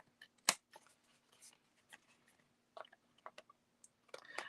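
Big cheap scissors cut through paper in a quiet room, giving a sharp close snip followed by a scattered run of small clicks and crisp cutting strokes, ending in a quick burst of rustling snips.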